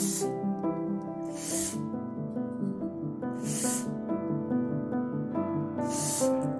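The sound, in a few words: spraying sensor cleaner around a car engine sensor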